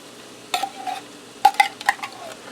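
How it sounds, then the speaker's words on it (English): Condensed cheddar cheese soup from a 10.5-ounce can being added to a greased 9x13 baking pan for a hamburger casserole, heard as a few light metallic clinks and scrapes of can and utensil against the pan. "I'm going to add in a can of cheddar cheese soup."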